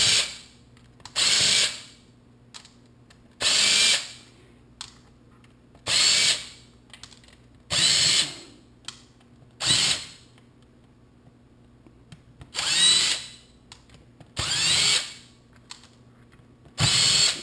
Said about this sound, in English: So let's start removing the screws.